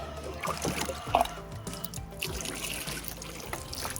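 Water being poured from a container for garden plants, an uneven trickling and splashing at close range over low background rumble.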